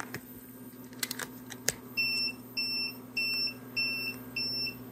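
A battery discharge tester running a LiFePO4 cell test sounds a repeating high electronic alarm, five evenly spaced short beeps after a few faint clicks, close and clear over a low hum.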